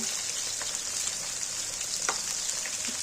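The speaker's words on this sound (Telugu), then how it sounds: "కొంచెం లైట్గా వేగితే సరిపోతుంది" Vegetables fry lightly in oil in a pan, giving a steady, bright crackling sizzle with occasional louder pops and no talking.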